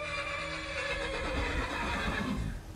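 A horse in Skyrim gives a loud, drawn-out neigh lasting nearly three seconds. The whinny wavers in pitch, and faint hoof clip-clops sit beneath it.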